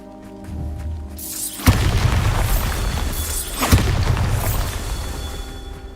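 Bombarda spell explosion in the Hogwarts Legacy video game: two loud, booming blasts a couple of seconds apart, each with a sharp onset and a rumbling tail, following a softer magical hum.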